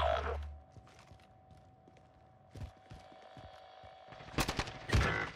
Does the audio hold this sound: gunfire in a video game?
yes